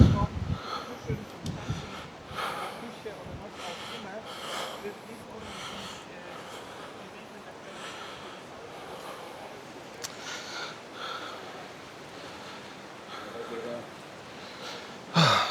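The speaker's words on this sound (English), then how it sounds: "Sorry for my heavy breathing, but we've just come from that shopping centre all the way up." A person walking uphill along a seaside promenade in Gran Canaria breathes heavily, with loud, close, steady gasps and sniffs that continue under their own talking and outdoor ambience.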